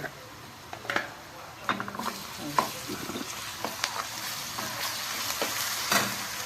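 Ginger garlic paste frying with sautéed onions in a pan, a steady soft sizzle under repeated close stirring scrapes and occasional utensil clinks.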